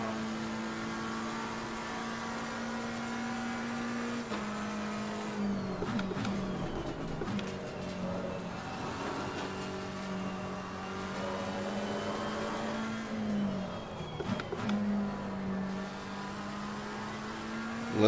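A GT race car driven around the Nürburgring in Assetto Corsa Competizione, running on fresh tyres: a steady, droning engine note that climbs through the gears, with brief shift breaks and surrounding cars passing under it.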